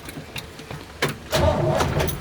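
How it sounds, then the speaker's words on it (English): A 1971 Chevrolet Suburban truck engine cranks briefly with a whirring starter, then catches and rumbles into a steady idle, close and fairly loud. "Let's fire up the truck and make sure everything works."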